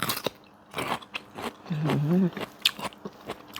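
Crisp, close bites and chewing of crunchy boiled bitter bamboo shoots eaten with stir-fried mango and dried shrimp chili paste, several sharp crunches spaced apart with a brief voiced hum in the middle.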